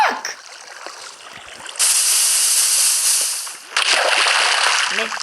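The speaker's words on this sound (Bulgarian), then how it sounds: "Вземи кофа вода и го сложи тук." Water from a bucket pours out in a Minecraft game, two bursts of steady broadband rushing about two seconds each, separated by a brief dip, loud and close.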